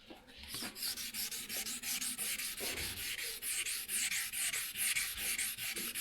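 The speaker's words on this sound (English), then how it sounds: "And you can see as I'm sanding," Steady, rhythmic sanding strokes rasp across a lacquered surface, close and continuous, each pass a bright scratchy swish with no talking.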